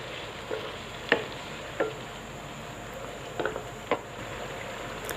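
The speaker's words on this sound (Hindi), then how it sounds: "और यहाँ पर कलेजी को फ्राई करते हुए 5 मिनट हो चुके हैं।" Mutton liver (kaleji) frying in a pan with ginger garlic paste, a low steady sizzle with a few faint stirring clicks and taps scattered through it.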